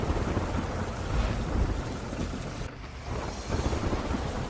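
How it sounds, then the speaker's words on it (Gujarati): Heavy downpour over Porbandar during the monsoon, a steady dense roar of rain with a brief dip midway, loud and continuous with no voices. "પોરબંદરમાં અનરાધાર વરસાદ પડ્યો છે"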